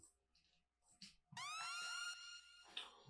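The 808 Mafia Kill Bill siren, a sweeping synth tone, glides upward over sparse prog hop beat hits, repeating in a short rising burst near the middle.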